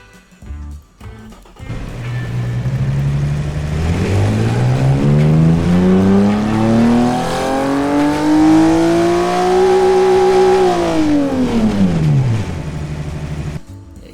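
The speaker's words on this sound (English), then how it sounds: "here it is, our Boxer 6 engine." A Boxer 6 engine in the Automation car-building game revs up in a single long rise, its pitch climbing steadily before dropping off sharply, loud and close with no talking.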